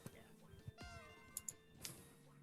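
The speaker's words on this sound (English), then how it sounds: "Here's a happy cat." A cat meows a few times in short upward calls, close and fairly quiet, with a person murmuring and soft handling noises around it while the cat is given chin scratches.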